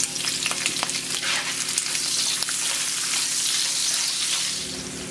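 Chopped large red chilli fries in hot oil in a pan, a steady loud crackling sizzle with scattered pops that continues evenly without talk.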